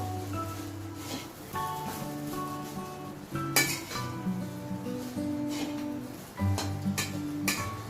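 Fried rice being stirred in a pan at home, with a spoon clinking and scraping against the metal in irregular strokes and a faint sizzle underneath, close and moderately loud.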